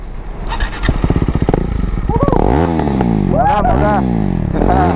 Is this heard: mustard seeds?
no